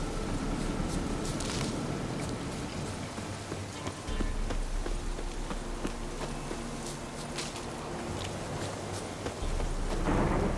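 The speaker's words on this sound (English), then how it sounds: "The storm, damn it." A thunderstorm with rain in The Witcher 3 gives dense continuous rain hiss with low thunder rumbles swelling near the start and end, plus scattered sharp patters.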